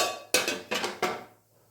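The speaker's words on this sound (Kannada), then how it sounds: "ಈಗ ಪಾತ್ರೆ ಇಟ್ಟಿದ್ದೀನಿ" A metal cooking pot clanks down onto a stove in three quick bangs, each ringing briefly and then fading into near silence, close and fairly loud with no talking.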